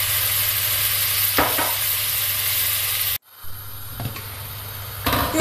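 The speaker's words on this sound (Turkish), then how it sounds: "Kızgın tenceremde üzerine 1 yemek kaşığı sadece zeytinyağı ilave ederek etlerimi kendi halinde sulanmaya bırakıyorum" Meat searing in a hot pot with a tablespoon of olive oil, a steady broadband sizzle filling the background, with a couple of brief stirring scrapes and a sudden drop as a lid covers the pot before the sizzle resumes.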